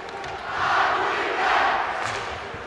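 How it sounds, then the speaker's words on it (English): Loud crowd of Fargo Davies fans at a high school hockey game against Grand Forks Central, cheering and roaring in two swelling waves that fill the arena, no clear speech on top. "Davies fans, not exactly sure what they're cheering, but it's loud."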